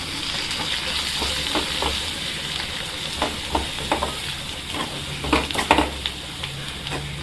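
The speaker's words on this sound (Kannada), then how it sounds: "ಒಗ್ಗರಣೆ ಹಿಂಗಾಗ್ಯದ." Spices sizzling and crackling in hot oil for a Kannada home-kitchen oggarane tempering, a steady close frying hiss with sharp pops scattered throughout and a cluster of louder spits near the end.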